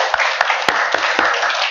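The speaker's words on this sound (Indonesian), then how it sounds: "Beri tepuk tangan untuk kelompok" An audience claps for a group at a class presentation, a burst of dense clapping with several sharper hand claps standing out, close and fairly loud.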